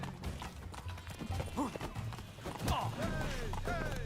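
Horse hooves clip-clop at an easy, uneven pace in the video game Witcher 3, fairly quiet under someone talking over the game sound.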